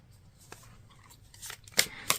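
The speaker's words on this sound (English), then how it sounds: "So as I'm shuffling out these cards," Soft, close rustles and snapping flicks of tarot cards being shuffled, growing louder with a couple of sharp riffles near the end.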